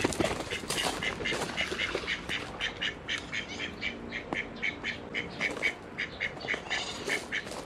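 Several ducks quack loudly and repeatedly near water, in a rapid uneven series of squawking calls up close, with no talk over them.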